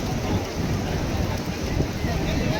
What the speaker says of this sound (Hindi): अजे भी लगी बारिश